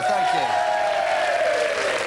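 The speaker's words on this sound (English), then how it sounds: "Have a nice round of applause for the fellas there" A studio audience at a 1991 television dating show gives a steady, even wash of applause for the contestants, lasting the whole moment while a voice briefly speaks over it.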